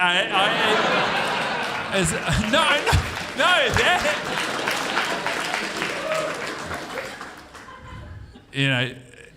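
A live comedy audience breaks into applause and laughter after a joke, a dense sustained clapping roar that slowly thins, with talk and a brief louder burst near the end.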